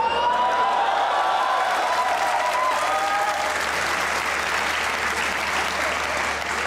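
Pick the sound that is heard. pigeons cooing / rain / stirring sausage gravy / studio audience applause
studio audience applause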